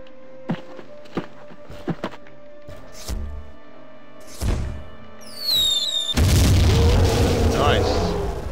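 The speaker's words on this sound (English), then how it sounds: "I think that's cause to use the mortar" Mortar fire in the tactical game Jagged Alliance 2, a few deep booms and thuds spaced apart, followed by a loud sustained rumbling blast that fills the end.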